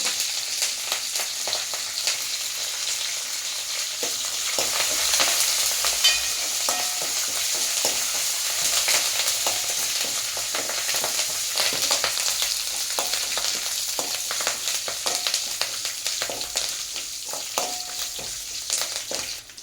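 Tamarind, curry leaves and garlic fry in hot oil for a radish chutney, making a continuous close sizzle with scattered crackles and occasional scraping of a stirring spoon in the pan.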